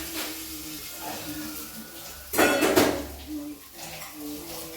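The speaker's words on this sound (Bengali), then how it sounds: "তারপরে ওই যে নারকেল দিয়ে একটা ইনগ্রেডিয়েন্টস বানিয়েছিলাম, সেটা এর মধ্যে দিতে হবে।" A coconut mixture is added to a pan and stirred, with metal utensils scraping and clinking in one loud burst amid softer clatter and a low background hum.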